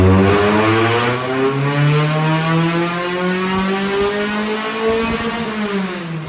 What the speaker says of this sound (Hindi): सबसे पहले हम गाड़ी का रन मारेंगे बगैर किसी ट्यून के, देखते हैं कि गाड़ी स्टॉक ECU के ऊपर कितनी पावर निकालती है।